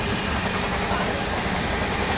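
A train bound for Hyderabad rumbles along, a steady, broad rushing noise heard from inside the carriage, even and unbroken for a couple of seconds.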